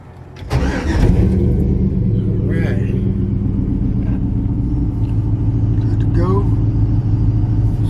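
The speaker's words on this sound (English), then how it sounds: "So we do got gas, and then let's see, we got ignition." A car engine is cranked and fires with the ignition, catching after a short starter burst and settling into a steady, loud, close idle rumble that holds to the end, with no talk over it.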